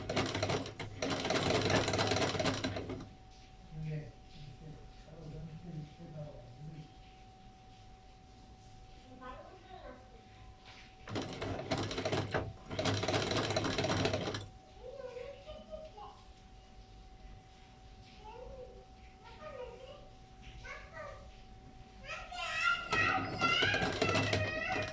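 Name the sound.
sewing machine stitching folded fabric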